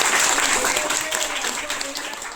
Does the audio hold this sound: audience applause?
yes